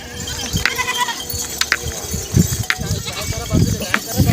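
Goats grazing in a soybean field, with scattered bleats and hoof steps over outdoor rustle while someone talks throughout.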